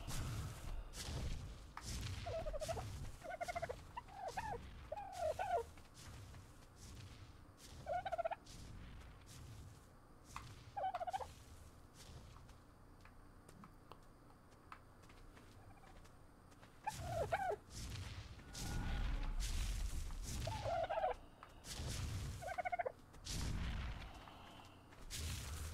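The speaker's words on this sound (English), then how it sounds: "All I can hear is dodos chirping away around me." Dodos in the video game Ark Survival Evolved give clucking, gobbling bird calls in scattered bursts, moderately near, over a low rumbling background with occasional booms.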